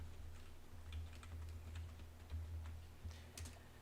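Computer keyboard keys are pressed for shortcut commands while saving a file in Photoshop, a scattering of faint quick clicks over a low hum with no talk.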